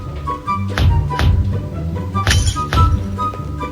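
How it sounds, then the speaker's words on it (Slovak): An axe strikes glass inside an underground bank in the Roblox game Brookhaven, giving repeated clinking, cracking impacts in an uneven rhythm against a low game background. "Dajte tento tu pohyb a počkajte, dokiaľ sa sklo rozbije."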